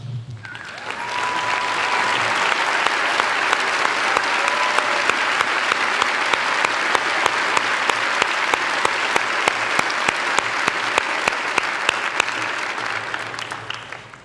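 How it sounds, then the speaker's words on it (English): Sustained audience applause at a high school graduation ceremony honoring students who took ten or more AP exams; loud, dense clapping from a large crowd lasting over ten seconds, then fading. "If you have taken 10 or more AP exams, please stand for a round of applause from the audience."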